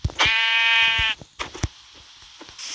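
Sheep bleating in a Minecraft-style survival video game, one clear sustained bleat near and loud, followed by a few short clicks and game effect sounds over a quiet background.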